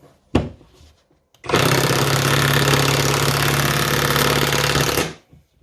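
A Kimo impact driver on its low setting runs in one loud, continuous burst of about three and a half seconds with a steady buzzing hum, preceded by a sharp click and brief low rumble, then stops abruptly.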